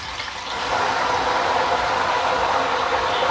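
About a spoonful of salt water hits hot oil frying potato wafers on lowered heat, setting off a loud, dense sizzling hiss that swells after a quieter moment and holds steady to the end.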